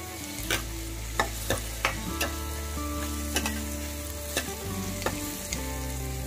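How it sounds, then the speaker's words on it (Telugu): Drumstick masala frying and being stirred in a pan for a South Indian munakkaya masala fry, a steady close sizzle with repeated sharp clicks of a spoon scraping the pan, no voices. "కొంచెం గోల్డెన్ బ్రౌన్ కలర్ వచ్చేంత వరకు ఫ్రై చేసుకోవాలి."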